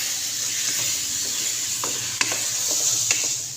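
Beef karahi sizzles steadily in the pan with a constant hiss as it is stirred, scattered scraping clinks of the utensil rising over the frying, after coriander and small green chilies go in.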